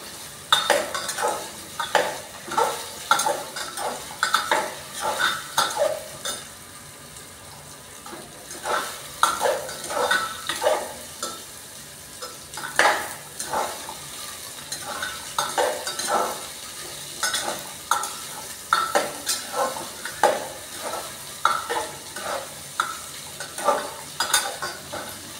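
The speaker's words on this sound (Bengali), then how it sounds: "নাড়াচাড়া করবো।" Papaya pieces stirred in a frying pan, with repeated scraping and clattering of a spatula against the metal over a soft sizzle, in rhythmic bursts up close.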